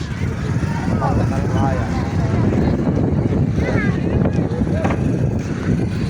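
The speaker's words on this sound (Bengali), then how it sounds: "অনেক বাতাস।" Strong wind buffets the microphone in a constant roar on a lakeshore in Madaripur, Bangladesh, with a few faint voices and bird chirps beneath.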